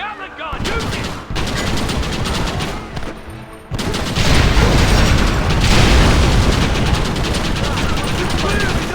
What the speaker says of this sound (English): The Gatling gun, use it!